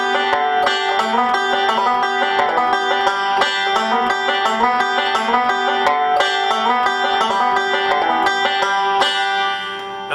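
Cripple Creek's B part played up-tempo on a plucked string instrument, a quick, bright run of picked notes in a steady driving rhythm, close and clear with no talking.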